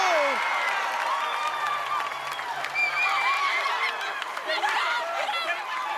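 A crowd at an American Ninja Warrior course cheers and applauds a competitor during the finals, a moderately distant, continuous swell of shouts and clapping with scattered whoops.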